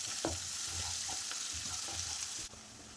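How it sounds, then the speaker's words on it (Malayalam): Chopped onion and green chilli sauté in an oily pan for beetroot rava upma, making a faint, steady sizzle with a few soft scraping stirs, and no one speaking. "വഴറ്റി കൊടുക്കാം"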